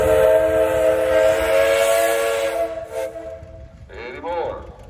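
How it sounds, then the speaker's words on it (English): A steam engine whistle blows a long, loud, sustained tone at a steam show, fading out before shorter whistle notes and nearby voices follow near the end. "Hey guys, you got a whistle?"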